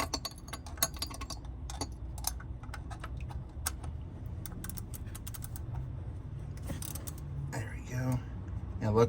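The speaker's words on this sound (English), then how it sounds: "So you can see that I can turn it already with just the ratchet." A ratchet turns radiator bolts on a third-generation Toyota Tacoma, giving quick bursts of close, light metallic clicking with short pauses between them, with faint talk under the clicks near the end.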